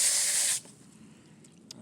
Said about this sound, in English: We just spray her down really well.